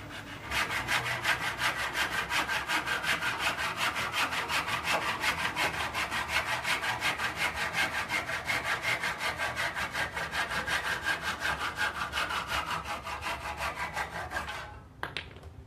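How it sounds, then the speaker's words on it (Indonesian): A wooden step for a 4-metre wooden ladder being cut with a handsaw, heard as steady, fast, evenly rhythmic rasping saw strokes close by that run without a break for about fifteen seconds and end abruptly, with no voices. "kayu-kayunya yang lebih tinggal dipotong satu persatu"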